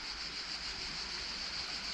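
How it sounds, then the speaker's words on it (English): A small, low-running creek in summer near an old stone arched bridge in Greece flows with a steady broadband rush of water, moderately quiet and continuous with no voices. "It's a little creek."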